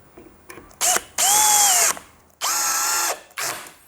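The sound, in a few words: Bosch GSB 185 LI cordless brushless hammer drill running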